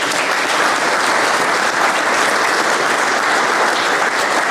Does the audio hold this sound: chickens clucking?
no